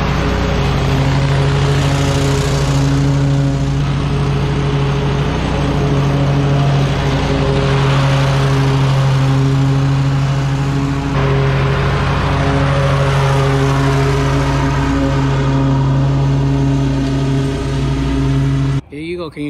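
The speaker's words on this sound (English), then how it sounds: "X548 stand-on lawnmower right here" Close engine drone of a running DEWALT X548 stand-on lawn mower, a steady mid-pitched hum with slight rises in revs, continuing throughout before stopping abruptly near the end.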